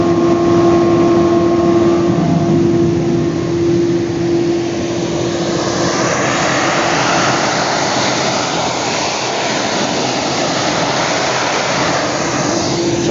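Kärcher ID 130/22 industrial dedusting unit with swing arm running, a loud steady broadband suction roar with a droning motor hum, holding constant throughout with no talking.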